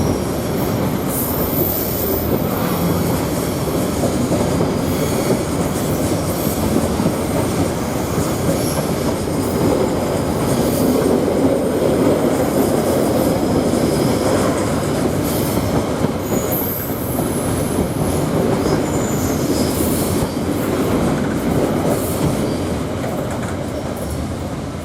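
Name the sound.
freight train passing through Thornaby railway station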